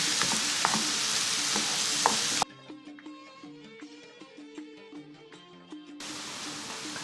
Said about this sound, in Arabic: غادي نضيفو الفلفل الأصفر، غادي نحركوهم مزيان على هاد الطريقة حتى يندمجو لينا